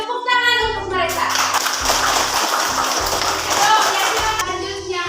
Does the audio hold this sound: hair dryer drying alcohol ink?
no